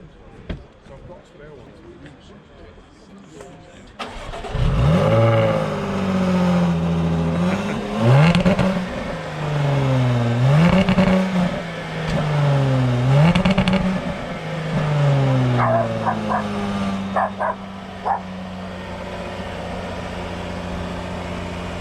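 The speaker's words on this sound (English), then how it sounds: "start it up, because they make a fantastic noise, don't they?" A Jaguar F-Type R fires up with a sharp bark, then settles into a deep idle punctuated by several loud, rising revs that fall away again, heard up close and followed by a steadier rumble.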